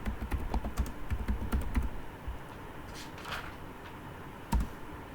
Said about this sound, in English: So you type on the Google